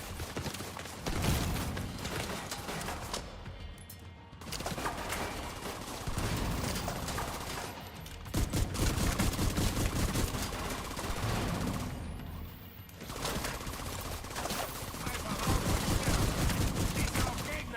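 Sustained gunfire rattles through a firefight in The Division 2, dense bursts rolling almost continuously across the stretch with brief lulls, layered under a voice talking.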